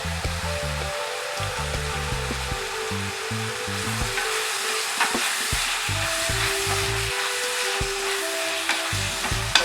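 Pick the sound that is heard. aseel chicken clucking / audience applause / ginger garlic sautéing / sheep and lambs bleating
ginger garlic sautéing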